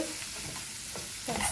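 Garlic butter shrimp stirred in a frying pan, a continuous close sizzle with soft scraping strokes of the utensil and a brief louder clatter near the end.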